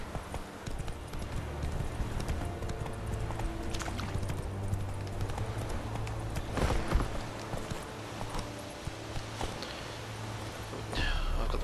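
Horse hooves clip-clop on the ground in The Witcher 3, a steady rhythmic gait close by, with game music and occasional faint speech under it.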